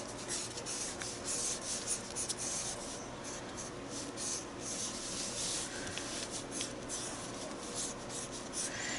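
Pencil lead rubbing and shading across paper while drawing a face portrait, a continuous soft dry scratching with quick back-and-forth strokes, close and fairly quiet, no talking.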